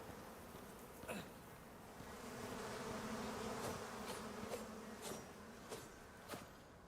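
A steady, low insect buzz of bees droning throughout in the survival game Icarus, fairly faint, with a few soft clicks and knocks.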